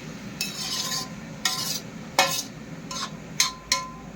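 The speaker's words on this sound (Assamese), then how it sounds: "অমিতা আলু মচুৰ দালি এতিয়া ভাজি আছোঁ" Papaya, potato and masoor lentils frying in a pan, with a low steady sizzle and several distinct scrapes and clinks of a spoon stirring against the metal, spaced about every half second to a second, close and fairly loud, no talk.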